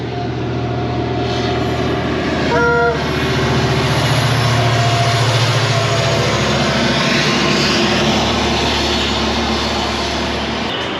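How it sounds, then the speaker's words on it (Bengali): A diesel-hauled passenger train approaches near Ahmedabad. A loud, steady engine rumble and rail roar fill the whole stretch, and a brief tonal horn-like blast sounds near the third second. "এই দেখুন সামনে আসছে ডিজেল ইঞ্জিন নিয়ে ট্রেন"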